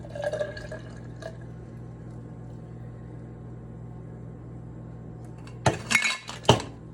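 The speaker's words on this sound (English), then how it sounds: "And then I'm gonna pour that over ice." Liquid drink poured over ice in a home kitchen, heard as a few loud crackling, clinking bursts near the end after a long quiet stretch with faint drips early on.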